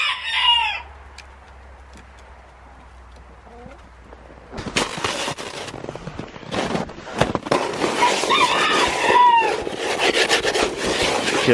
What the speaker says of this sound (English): The chickens are willing to come out.